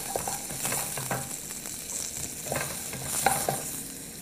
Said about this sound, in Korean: 마늘을 좀 볶아서 마늘 향이 배어 나오면 단단한 채소부터 넣어서 볶겠습니다.